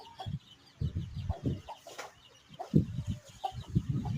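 One-week-old native chicks at feeding time, making short repeated clucks and cheeps that come in small bursts across the clip, close by and moderately loud, with no talk.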